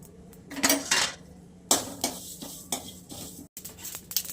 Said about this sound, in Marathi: तर आपण भाजून घेणार आहे कारळा.